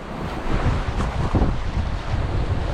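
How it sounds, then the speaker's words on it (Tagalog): Rough surf churns and crashes continuously, with gusting wind buffeting the microphone. "malakas ang alon"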